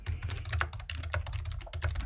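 Rapid typing on a computer keyboard while entering a new task in Google Tasks, a steady run of close, crisp key clicks with brief pauses, no voices.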